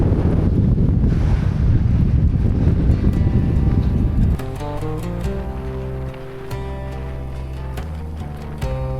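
Strong wind roars loudly across the microphone while cycling across Mongolia, a dense steady buffeting for about four seconds before music takes over and the wind drops back underneath.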